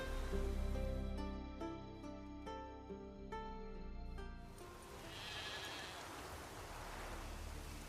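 Sheep bleating in The Witcher 3: Wild Hunt, a drawn-out wavering bleat over game ambience and background music, followed by a soft rushing wash of sound.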